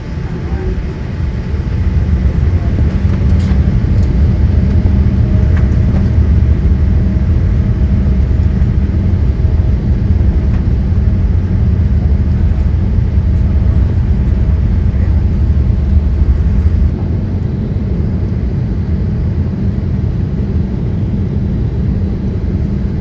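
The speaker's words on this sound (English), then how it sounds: "runway 27 left, clear for takeoff." A Boeing 787-8 airliner takes off from runway 27 left at night, a loud, steady, low engine roar building and holding for over twenty seconds, heard from inside the cabin.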